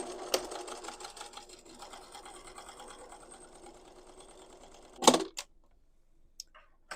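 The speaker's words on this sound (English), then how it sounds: "So just stitch that same seam in the same places again, but make it 5/8 of an inch away from this edge" A sewing machine runs steadily for about five seconds, stitching a second elastic channel seam 5/8 inch from the edge of a summer skirt, then stops with a short clatter and a few faint clicks.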